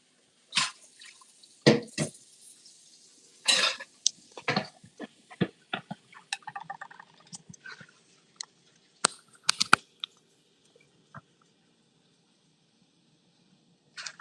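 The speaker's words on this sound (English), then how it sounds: "Wash plastic forks and spoons." Plastic forks and spoons being washed at a kitchen sink: irregular clinks, drips and splashes in scattered bursts, busiest early and thinning out toward the end, with no speech.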